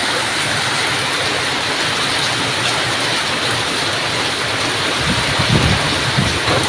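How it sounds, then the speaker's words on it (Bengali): Heavy rain pours steadily in a dense, loud hiss that does not let up, with some lower splashing toward the end. "কত জোর বৃষ্টি হচ্ছে এখানে"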